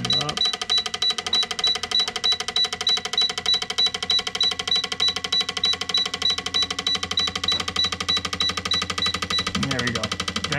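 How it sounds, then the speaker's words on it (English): FIC 1300 fuel injectors firing on an Autool CT150 cleaning and flow tester during an idle test give a fast, even, mechanical clicking pulse that stays close and loud for the whole stretch. "so that's what it actually looks like during idle. And it's pretty sweet. Some pictures of it. It actually sounds like a car too"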